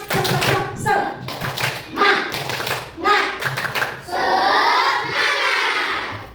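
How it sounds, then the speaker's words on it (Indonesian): A class of fourth-grade children in an Indonesian classroom claps out a rhythmic spirit-clap pattern in sharp, evenly spaced bursts, with the whole group chanting along near the end. "Sekali lagi, tepuk semangat."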